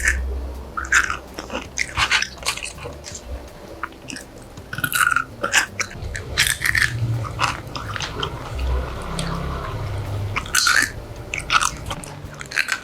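Close, crisp crunching of cooled roasted chickpeas being chewed, with irregular bursts of biting and chewing over a low background rumble and no talking.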